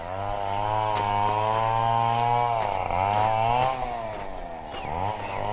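A chainsaw engine roars continuously, its pitch rising and dipping as it bites into wood during illegal logging in Tanay, Rizal; loud and fairly close, no speech.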